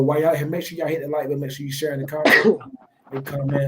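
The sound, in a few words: sneeze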